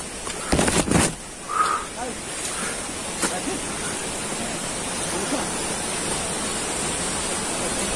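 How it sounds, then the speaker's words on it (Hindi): A hidden waterfall near Baramulla, Kashmir, roars as steady broadband rushing water throughout, with brief rustles and a couple of bumps near the start but no talk over it. "पहुंच गए वाटरफॉल"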